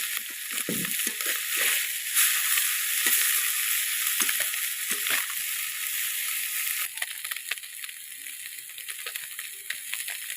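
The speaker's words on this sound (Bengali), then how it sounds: "মাছগুলো এইভাবে ভেজে নেব" Fish frying in a pan of oil, a steady close hiss and sizzle running throughout with occasional crackles and scraping stirs.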